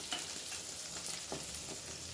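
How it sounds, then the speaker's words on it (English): Butter sizzles in a pan around the edges of a soufflé omelette, making a faint, steady crackle close by with a few soft bursts and no talk. "at this time I'm going to add some more of the butter to the sides"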